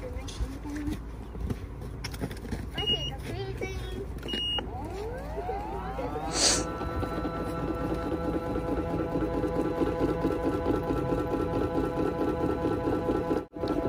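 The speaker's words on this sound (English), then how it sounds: "This is the spin dry feature, but it also has a heater, so this is just the spin cycle that we're doing." Portable folding washing machine with heated dryer running its spin cycle, a steady loud whirring hum that builds and holds, with a few clicks and clatters early on and voices talking over it.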